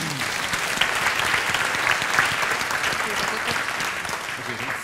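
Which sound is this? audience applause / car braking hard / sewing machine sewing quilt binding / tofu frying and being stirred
audience applause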